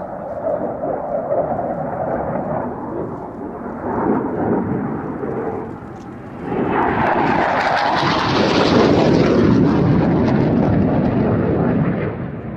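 A loud, roaring jet engine in afterburner builds to a deep, sustained rumble, swelling stronger about halfway through and holding near and powerful to the end.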